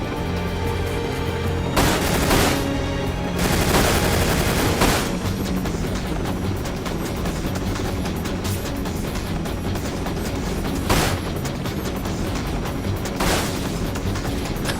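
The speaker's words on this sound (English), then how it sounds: "Look out, the barrels are going to explode." Barrels explode amid gunfire in the PS2 shooter Dirge of Cerberus: Final Fantasy VII, with heavy booming blasts early and later a continuous rattle of shots and another loud burst, dense and loud throughout.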